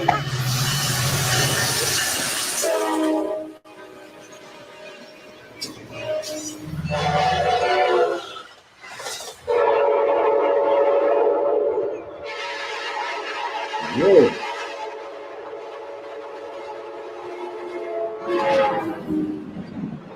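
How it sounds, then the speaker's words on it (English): An Amtrak F-59PHI locomotive sounds its Nathan K5LA air horn in a series of separate blasts of varying length, some short and some drawn out, each a loud, sustained chord with quiet gaps in between. "Amtrak's F-59PHIs come equipped with a Nathan K5LA air horn."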